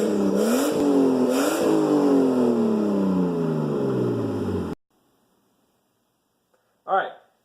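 Datsun with an RB25 engine revving hard, rising and falling engine tones with sweeping harmonics for several seconds before cutting off abruptly, followed by near silence and a brief voice at the end.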